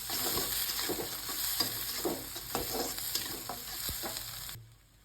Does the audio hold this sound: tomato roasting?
yes